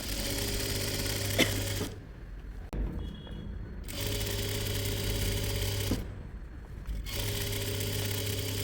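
Sewing machine stitching a pant seam in two steady runs of loud, even mechanical whirring, each stopping abruptly into brief near-silence with small clicks before resuming, heard close with no talk.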